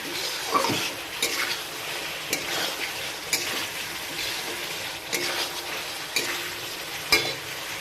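Masala sautés in oil in a pan, a continuous sizzle broken by regular scraping and clinking strokes of a spoon against the pan, close and fairly loud, with no one talking.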